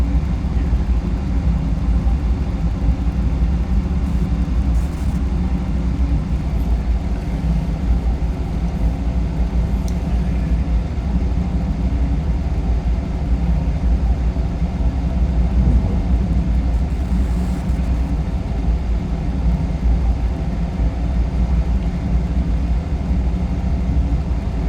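A low, steady rumble of a train slowing as it approaches a station in a train simulation game on Steam, a continuous engine drone with no clear change, loud and unbroken throughout.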